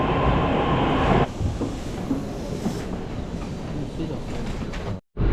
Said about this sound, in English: And the train's already here, even though the train leaves at 6:16.